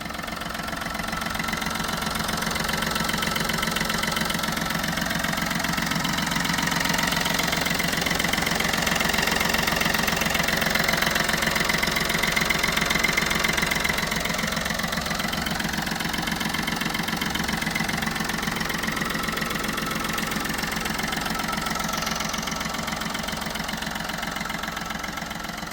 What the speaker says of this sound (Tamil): இப்போ இந்த வண்டியோட இன்ஜினை ஸ்டார்ட் பண்ணி இன்ஜினோட நாய்ஸ் எப்படி இருக்குன்றதை நான் ரெக்கார்ட் பண்ணி காட்டுறேன்